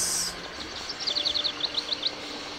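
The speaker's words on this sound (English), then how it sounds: "Birds are so chirpy." Birds chirp outdoors in the video game Syberia: a quick run of about eight short, high chirps in a steady rhythm, fairly faint over a quiet background.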